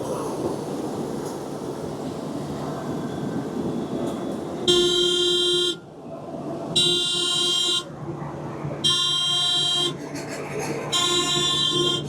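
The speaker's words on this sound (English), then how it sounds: "What's the buzzer about?" A harsh electronic tractor seat alarm buzzer sounds in four repeated bursts, each about a second long, over a low idling engine rumble during soybean harvest.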